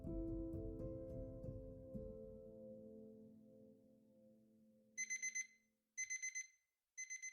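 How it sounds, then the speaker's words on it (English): An alarm clock beeps loudly in quick bursts of rapid electronic beeps, three groups separated by short pauses, following a fading ringing tone. "after Laura had gone to the movies with Dan, she woke up to the loud beep of her alarm clock."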